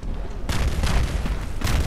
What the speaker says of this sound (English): They're mortaring the whole left side.